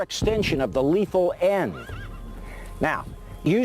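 A horse whinnies loudly several times in quick succession, with hooves clip-clopping between the calls.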